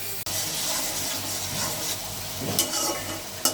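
Ground spices, salt, turmeric and chili powder, frying in a pan for a cauliflower, new potato and rohu fish curry, with a steady close sizzle, scraping stir strokes and a couple of sharp utensil clinks near the end.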